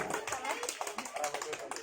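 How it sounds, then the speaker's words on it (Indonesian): Students in a school classroom give a steady round of applause, with continuous overlapping claps under voices. "berikan tepuk tangan kepada Alfiano Bintang Ramadhani dari kelas 8B juga"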